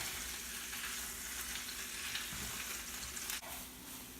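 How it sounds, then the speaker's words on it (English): Ground turkey beginning to cook in a pan for taco lettuce wraps, giving a continuous soft sizzle at an even level with a brief scrape near the end and no talking. "So we're gonna put the turkey in, and then as it starts cooking up"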